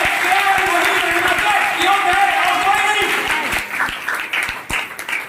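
A church congregation at a Hindi sermon claps in a loose, busy patter of many hands, with overlapping voices and fading toward scattered claps at the end.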